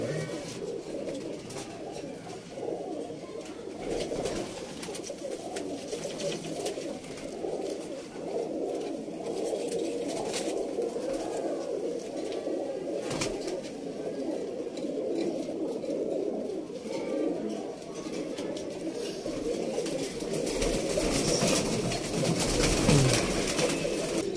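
A loft full of pigeons coos in a dense, continuous chorus of overlapping throaty calls, close and steady throughout, with a slight swell near the end.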